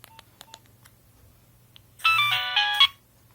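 An old Nokia mobile phone plays a short polyphonic ringtone melody, loud and close, lasting under a second after a few faint clicks and beeps, then cutting off abruptly.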